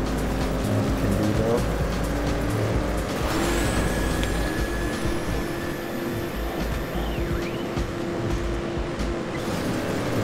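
A car drifts in an arcade racing game, engine roaring steadily while tyre squeals and whooshes rise and fall above it, with game music and sound effects around it and a voice talking over it.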